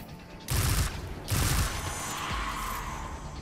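Gunfire from the video game Destiny 2 comes in two loud, dense bursts of rapid shots, each lasting under half a second, over a steady background of game sound.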